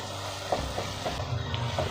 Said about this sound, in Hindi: अभी हमने और फ्राई करना है ताकि इसका कलर जो है ना ब्राउन हो जाए।